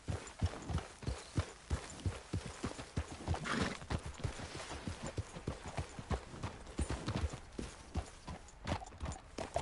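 Horse hooves clip-clop steadily along in a Western open-world game, a brisk, even rhythm of close hoofbeats that runs the whole time, with faint background sound.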